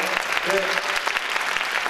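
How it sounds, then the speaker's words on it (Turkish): An audience at a folk song concert on a cold Ankara evening breaks into applause, a dense steady clatter of many hands filling the moment, with a voice faintly audible beneath. "Bir alkışla ben sizin için sizden istiyorum"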